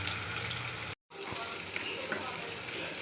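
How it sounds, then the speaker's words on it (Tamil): Small shallots sauté in hot oil with mustard seeds, fenugreek and cumin for a hotel-style prawn gravy, making a soft, steady sizzle with light stirring, broken by one brief silent cut. "வெங்காயம் போட்டு நல்லா வதக்கிடலாம்."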